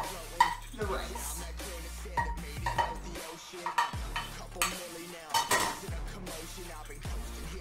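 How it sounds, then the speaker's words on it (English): Cooked eggs being stirred into rice for stir fry, a utensil scraping and clinking against the pan in repeated strokes with brief pauses, close and moderately loud. "We're gonna stir this all in."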